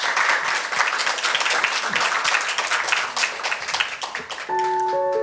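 An audience at a human rights forum in Jeonbuk applauds the panelists after a discussion session, with dense, moderately loud clapping that thins out before a sustained electronic tone comes in at the end.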